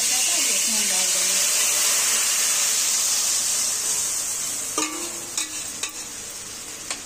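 Green cardamom, cloves and masala sizzle in hot oil in a pan, a loud steady frying hiss throughout, with a few clinks of stirring near the end and a voice speaking faintly underneath.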